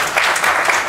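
Applause in a city council chamber for Parks and Recreation staff: a dense, steady burst of many hands clapping together, loud and close, lasting under a second.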